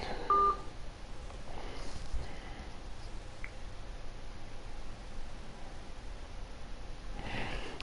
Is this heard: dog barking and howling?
no